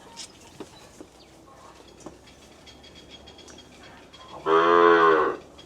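A calf at a cattle and buffalo market in Wang Prachop, Tak, gives one loud, sustained moo near the end, calling for its mother, after quiet background noise and a few faint knocks.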